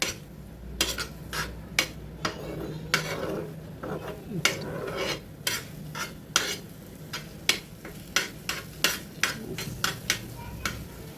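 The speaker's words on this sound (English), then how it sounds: "Incorporate the vegetables nicely in the egg." Vegetables being stirred into scrambled egg for egg bhurji in a pan, a steady series of sharp scraping strokes from a spatula against the pan over a faint sizzle, close and fairly rhythmic.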